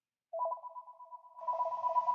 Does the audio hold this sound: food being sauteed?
no